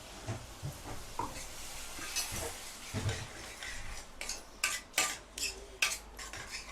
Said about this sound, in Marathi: आता मसाले सुद्धा चांगले परतून घेऊया